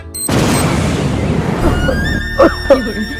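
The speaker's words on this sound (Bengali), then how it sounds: "পুলিশস্থান থেকে গ্রেনেড আনছিলাম, ভালোভাবে ফুটে নাই" A grenade goes off in a video game: a sudden loud blast that rolls into a sustained rumble and fades, followed by a couple of brief voice sounds.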